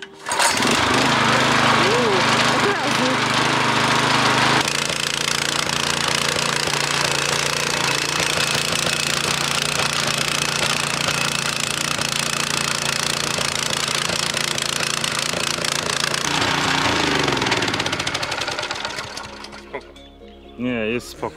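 A heavy garden-levelling machine's engine runs loud and steady at close range for most of the stretch, with a shift in pitch partway through and the motor dying down near the end.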